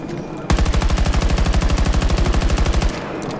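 Rapid automatic weapon fire in the video game Battlefield 2042 cuts in abruptly as one long, steady, evenly spaced burst of about two and a half seconds, loud and close, then stops.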